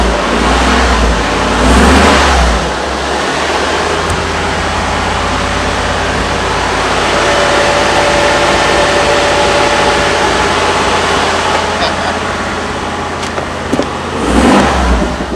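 Exhaust of a 1984 Rolls-Royce Silver Spirit idling steadily up close, a continuous low rumble with a faint whine, briefly swelling louder at the start and near the end.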